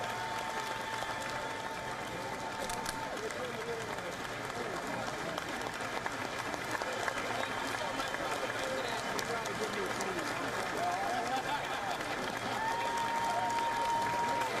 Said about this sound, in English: A raucous crowd here to welcome U.S. President Joe Biden to the Capitol building here.